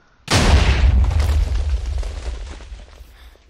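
A bat bomb going off in the Minecraft video game, one loud sudden boom with deep rumble that slowly fades over a few seconds, alone without talk.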